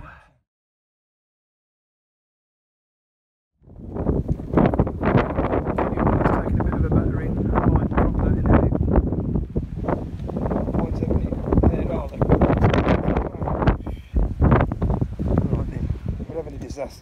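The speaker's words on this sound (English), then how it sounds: "Wind's picking up now" Heavy wind roars across the microphone at a storm-swept camp, loud and continuous with gusty fluctuations after a few seconds of near silence at the start.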